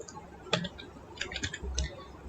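Quiet, irregular clicking of keys on a computer keyboard while HTML code is being typed, with light taps in short bursts against a soft background hiss.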